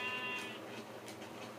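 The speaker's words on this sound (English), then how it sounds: "Ooh, sheep, you're in my way." Sheep bleating in the Minecraft video game, a short game-style bleat up close at the start, then fading into faint background noise with no talk.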